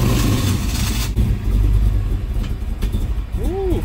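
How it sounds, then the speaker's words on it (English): An old vehicle engine, apparently a project car with the clutch not yet hooked up, runs loudly just after firing up from cold, a rough low rumble throughout with a faint voice over it. "Cold start."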